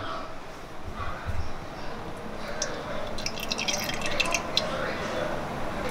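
Peanut oil is poured into a cooking pan while making poha, giving a wet, dripping trickle that rises and falls over several seconds, with someone talking over it.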